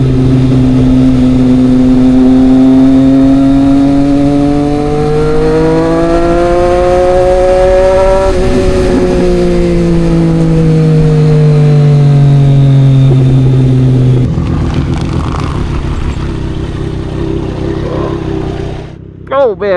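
A Triumph Street Triple 765 RS motorcycle accelerating on twisty roads. The engine revs climb steadily in pitch, then ease and build again, loud and close with constant wind rush.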